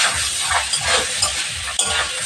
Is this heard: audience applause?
no